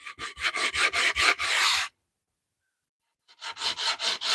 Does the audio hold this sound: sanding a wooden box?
yes